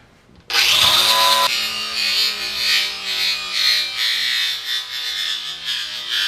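A polyabrasive wheel on a power tool strips paint from a steel car ramp, making a loud, steady abrasive grinding and rubbing that starts abruptly and continues with slight surges and dips.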